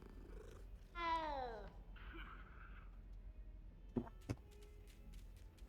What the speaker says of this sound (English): So it's gonna let you come up and